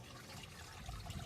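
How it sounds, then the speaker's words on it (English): Faint steady trickle of water dripping in a small hydroponic seedling setup, with a low continuous hum from a little pump running underneath, no voices. "you can see the water dripping down, little pump pumping up"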